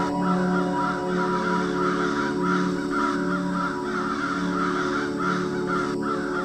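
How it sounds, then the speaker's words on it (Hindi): A black crow caws repeatedly in a dense forest, its harsh calls recurring in a steady rhythm over a continuous bed of background music. "सर के ऊपर काँव काँव करके चक्कर लगाने लगता है।"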